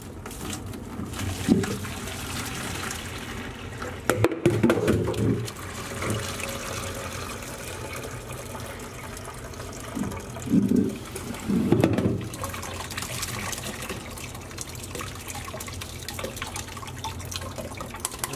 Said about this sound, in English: all we need to do is just carefully pour this in.